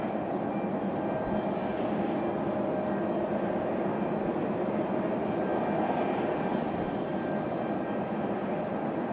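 A Delta CRJ regional jet taxis out at Raleigh-Durham airport, its engines a faint, steady, distant whine and hum with no other sounds standing out.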